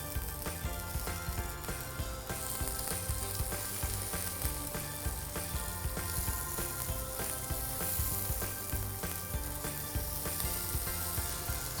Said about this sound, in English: Now our oil is hot. We'll start adding tofu into it.